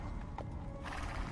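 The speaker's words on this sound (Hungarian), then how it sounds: "Lovak vannak, ez egy istála." Horses in a stable in the video game Assassin's Creed 2, one short whinny over clip-clopping hooves, brief and moderately close.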